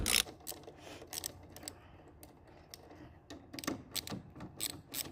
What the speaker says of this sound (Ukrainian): Беремо тріщотку торкс і відкручуємо гвинти.